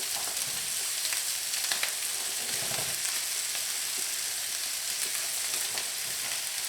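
Leeks and zucchini stir-fry in a wok with a loud, steady, close hiss of sizzling oil and faint intermittent stirring scrapes.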